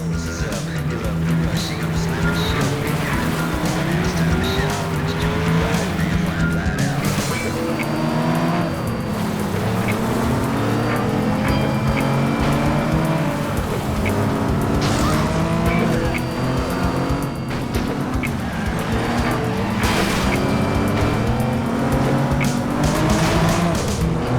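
Race car engines whine and rev continuously in the FlatOut racing video game, with wavering gear-shift pitch, frequent tire squeals and skids, and occasional crunching impacts, loud and busy throughout.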